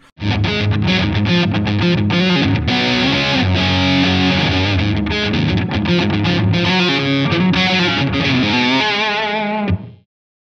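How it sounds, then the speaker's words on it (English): Heavily distorted high-gain electric guitar through a BIAS amp model plays loud, dense, driving riffs with a fast rhythmic attack, then cuts off sharply. "we're going to move over to the high gain setting"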